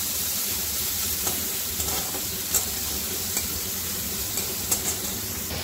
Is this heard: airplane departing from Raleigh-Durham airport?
no